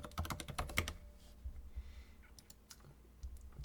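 Quick bursts of typing on a computer keyboard as a site name goes into a browser address bar, close and crisp clicks clustered at the start with a few scattered taps after.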